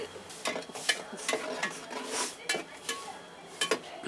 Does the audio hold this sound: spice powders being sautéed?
yes